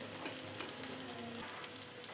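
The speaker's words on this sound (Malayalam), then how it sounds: "ഇപ്പോൾ കടുക് പൊട്ടി വന്നിട്ടുണ്ട്" Coconut oil with mustard seeds sizzles in a pan while tempering a pumpkin and cowpea erissery curry, a steady close frying hiss with small pops and crackles, alone without talk.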